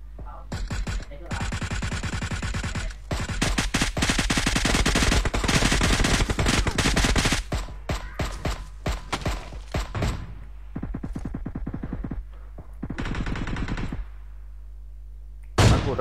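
Gunfire from the video game PUBG Mobile cracks in dense automatic bursts and scattered single shots, loud and close, broken by short pauses.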